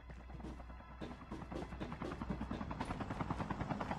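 A helicopter in the Call of Duty: Mobile battle royale thuds with a fast, steady rotor chop that grows louder and closer over a low engine drone.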